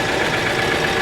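A Dodge Charger engine idles roughly at close range, a steady loud rumble with faint uneven pulsing and no voices.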